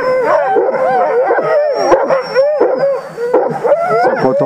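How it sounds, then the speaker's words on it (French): Sled dogs howling and yipping impatiently as a team waits to restart on a winter raid, a loud chorus of overlapping wavering howls close by, broken by short whimpers. "quand on est sur le point de redémarrer, les chiens commencent à être impatients."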